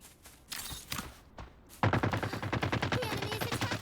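Gunfire in the shooter Fate Trigger: a few scattered single shots, then a sustained rapid automatic burst that runs loud and close to the end.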